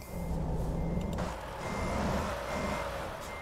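Reversing beeps from a truck in the American Truck Simulator game, sounding steadily over a low diesel engine rumble with a short air brake hiss near the start, and no voices.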